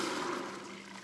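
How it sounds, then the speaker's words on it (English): Vinegar and water pour steadily into an Instant Pot's inner pot, a continuous splashing stream at moderate level with no talk. "I'm gonna pour in 2 cups of vinegar and 2 cups of water"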